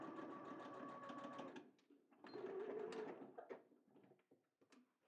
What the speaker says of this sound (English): I am just going to do a little line of top stitching